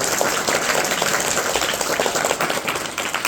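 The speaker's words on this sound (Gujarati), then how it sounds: "આપણે જોરથી તાળીઓ પાડવાની" School pupils clapping loudly together in a classroom quiz, a dense continuous burst of many hands, close and lively, with no talk over it.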